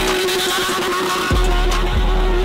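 A Suzuki Hayabusa engine drifts and screeches hard, a loud sustained engine roar with a sharp surge partway through, close and continuous.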